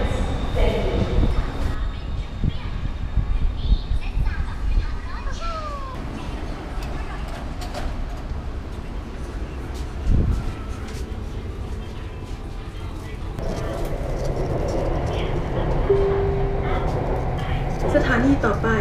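A Bangkok subway train arrives at Silom Station, its rumble and squealing wheels filling the car with a loud, continuous rolling roar while a recorded announcement voice plays over it.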